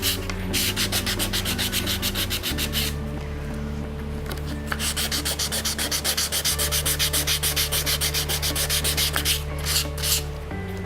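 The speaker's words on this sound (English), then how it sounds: "So I'm going to start with a 500 grit emery paper." A silver ring being rubbed by hand with 500 grit emery paper gives close, rhythmic scratchy strokes back and forth, over a steady low electrical hum.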